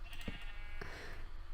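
Sheep in a video game bleat twice in quick succession, short nasal calls close by over a dense background of game sound.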